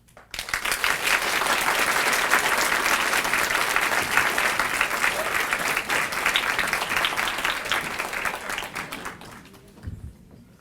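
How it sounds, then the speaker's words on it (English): Sustained audience applause at a school Founders' Night after grade 8 students recite a poem, a dense even wash of many hands clapping for about ten seconds before fading out near the end. "Please give another round of applause for Miss Peterson and grade 8 students."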